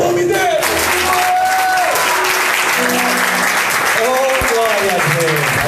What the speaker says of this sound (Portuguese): aplauda o nome dele.